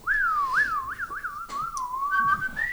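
A man whistles a wavering, sliding melody on a live morning radio show, the notes loud and close, rising and falling continuously with a brief pause midway.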